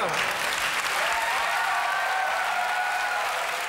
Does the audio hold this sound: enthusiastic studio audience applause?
yes